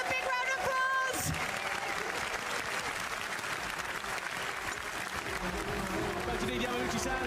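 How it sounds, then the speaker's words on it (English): A crowd at a live Gran Turismo 7 esports final breaks into loud, sustained applause and cheering that continues throughout, with voices mixed in. "Let's give a big round of applause."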